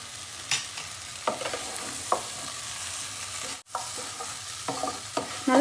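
Mushrooms being stirred into masala in a pan, producing a steady low sizzle with scattered scraping clicks of the spoon, a short silent break midway, then more stirring and clattering toward the end.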